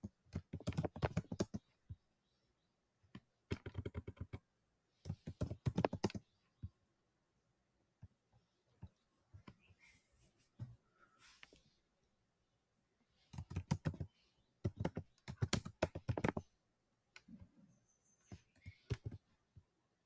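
Code is typed on a computer keyboard in quick bursts of key clicks separated by short pauses, close and dry with no voices.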